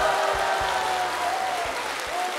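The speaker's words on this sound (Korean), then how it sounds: "제가 입장했던 어느 곳보다도 함성이 큰 것 같습니다" A lecture hall audience applauds and cheers in welcome, a dense steady wash of clapping with a faint tonal whistle or cheer riding on top throughout.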